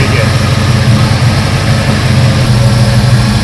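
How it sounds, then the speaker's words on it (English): A car engine idles steadily with the motor running at rest during alternator grounding checks, a loud continuous low hum with no revving. "with the car running at idle"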